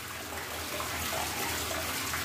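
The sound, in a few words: old shower running water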